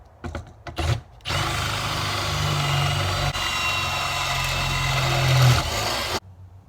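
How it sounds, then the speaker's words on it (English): A power drill drilling through metal whirs steadily for about five seconds after a few short starts, grinding loudly and close, then stops abruptly. "I'm gonna drill it through that thing on both of them"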